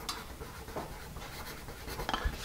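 Bic Evolution pencil writing on paper, a quiet close scratching with light irregular strokes and a soft tap near the end.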